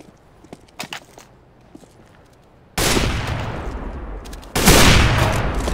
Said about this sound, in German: Beide verfehlen die Schüsse.